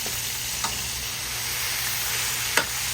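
Pork belly fries in its own rendered fat, a steady sizzle filling the pan throughout with a couple of sharp clicks from stirring, close up and with no talking.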